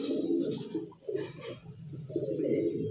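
Pigeons coo continuously in a loft during a bird sale in Delhi, soft rolling coos close by and steady throughout, with no talk over them.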